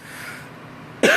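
A single sharp cough bursts out at the very end after about a second of quiet room tone, close and loud.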